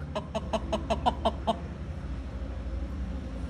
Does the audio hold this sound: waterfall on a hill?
no